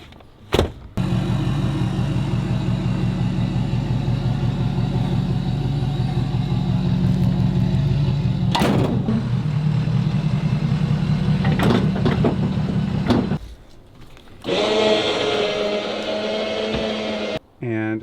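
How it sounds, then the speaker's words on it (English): A truck engine idling steadily as it backs up to hitch an RV, a loud continuous rumble with a few clicks and knocks, then the engine cuts off and a voice speaks briefly near the end. "Back that truck up."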